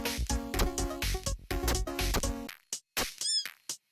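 A cat meows in a game, with bright repeated mews over busy music and effects, followed by sparser, sharper meow-like calls near the end.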